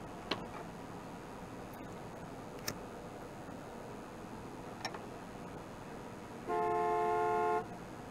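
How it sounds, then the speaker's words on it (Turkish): Horn honking in the video game Gas Station Simulator: a single steady car horn blast of about a second, loud over a quiet hum with a few faint ticks, no talking. "Kim çaldı lan o kornayı?"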